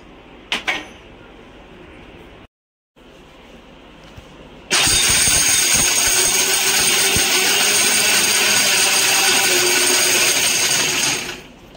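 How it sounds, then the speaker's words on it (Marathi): A mixer grinder grinding dry fruits starts up loudly and runs steadily with a harsh, high whirring roar for several seconds, after some quieter handling noise. "आता मी मिक्सरला वाटून घेत आहे"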